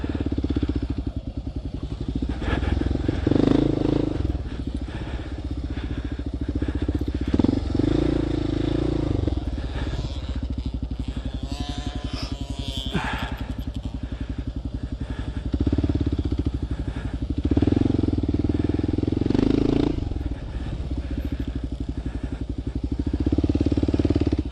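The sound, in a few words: motorcycles riding on a practice track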